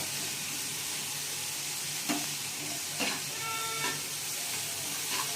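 Masala dry-fried for an egg and pea curry, a continuous close sizzle in the pan broken by several scraping stirs, with no talking.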